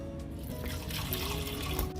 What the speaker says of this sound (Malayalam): അര ഗ്ലാസ് വെള്ളവും ചേർത്ത് നമുക്കിത് നാല് വിസിൽ വേവിച്ചെടുക്കാം